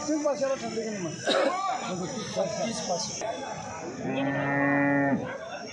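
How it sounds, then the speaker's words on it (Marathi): A cow moos loudly and close by at a cattle market, with a long low bellow near the end, mixed with people chatting and background noise. "गाय बघा, खतरनाकच।"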